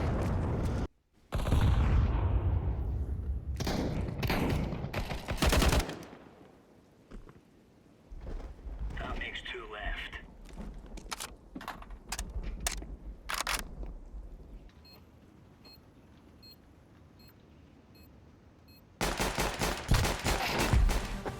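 Gunfire in a shooter video game comes as loud bursts of shots and rapid volleys, separated by quieter gaps with scattered single cracks, and ends with a heavy final barrage.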